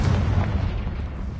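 Confringo fire-blast spell from Hogwarts Legacy, heard as a loud, sustained low rumbling boom with no voices, fading slightly over a second and a half.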